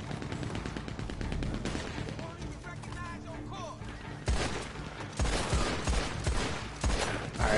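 Gunfire in Red Dead Redemption 2 Online, a dense stream of loud rapid shots and booms throughout, with players talking over the shooting.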